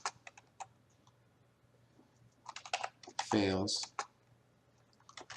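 Computer keyboard keys tapped in short bursts of clicks while entering social media hashtags, close and fairly quiet, with pauses between runs of typing.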